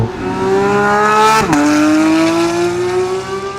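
A Porsche supercar tears past on a race track during an unsilenced track day, its loud engine wailing at high revs, then dropping sharply on a gear change or lift before climbing again, with a brief tire squeal.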